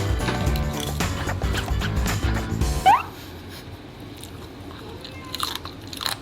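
Crunchy jelly-like snacks are bitten and chewed up close, with repeated crisp crunching for about three seconds, followed by a brief high squeak and quiet chewing.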